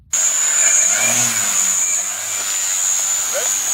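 Electric RC Turbo Beaver model plane flying, a constant high-pitched motor whine that starts abruptly and holds steady, with faint low wind rumble beneath and no talk.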